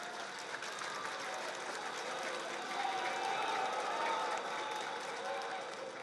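Steady crowd applause at a political event, a dense, continuous patter of clapping that holds at an even moderate level throughout, with a voice speaking over it.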